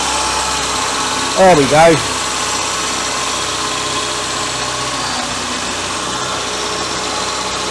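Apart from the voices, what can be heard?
Citroen BX engine idling on fuel left in the carburettor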